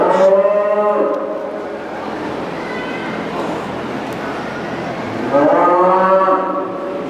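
Heifers at a county fair 4-H beef show moo loudly at the start and again near the end, long harmonic calls close by over steady barn crowd noise.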